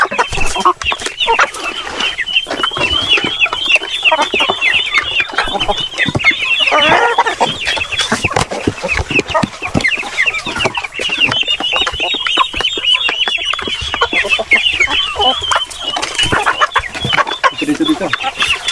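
Heritage chickens on a farm, a busy flock clucking and chattering continuously at close range, many overlapping calls forming a dense, steady din throughout.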